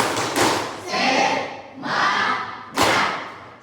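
A classroom of students performs the tepuk semangat spirit clap, four loud bursts of group clapping and thumping in a rhythmic pattern, close and filling the room.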